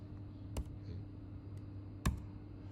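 Computer keyboard being typed on, two distinct sharp key clicks about a second and a half apart over a quiet steady hum, close and isolated.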